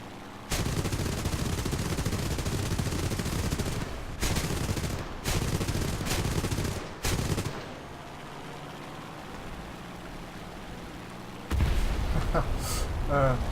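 Rapid bursts of aircraft cannon fire from a fighter plane in the War Thunder video game, its engine failing. Several loud, dense volleys come in quick succession, pause, then return in a final sustained burst.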